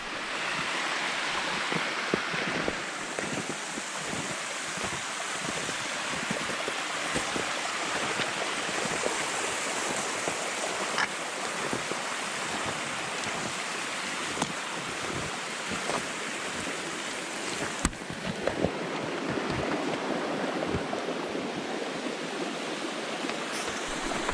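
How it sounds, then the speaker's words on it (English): A mountain brook on a trail near a waterfall rushes steadily in a continuous broadband wash of water and wind, close and unbroken, with no voices. "Do we know what this brook is called?"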